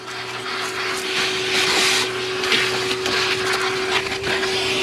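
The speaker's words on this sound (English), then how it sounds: "Let's get the vacuum and take care of that right now." A vacuum cleaner runs steadily and loudly with a constant motor whine, sucking up debris from a spilled mess in a garage during a Pontiac Firebird drag-racing build, with rattling bursts as bits are drawn up the hose.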